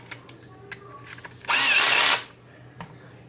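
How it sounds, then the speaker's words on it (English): A low-torque power drill driving screws into an RC truggy kit whirs in one loud burst of under a second, surrounded by faint clicks and small handling noises. "Break out the drill"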